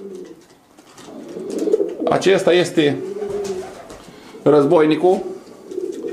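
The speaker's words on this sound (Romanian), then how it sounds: "Este un porumbel fantastic." Racing pigeons in a Romanian breeding loft coo in low, repeated bursts while someone speaks close by, with the calls rising over his voice twice.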